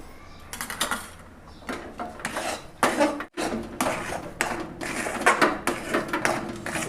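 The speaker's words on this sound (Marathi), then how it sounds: "एक चमचा तूप टाकायचा आहे परत चांगलं मिक्स करून घ्यायचं आहे" Spoon scraping and clattering against a pot while thick puran, a lentil and jaggery filling, is mixed with ghee; repeated close scrapes and knocks in uneven bursts, with no talking.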